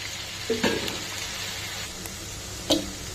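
Dried bitter gourd leaves fry in a pan with a steady, quiet sizzle, broken by a couple of brief utensil clinks or stirs.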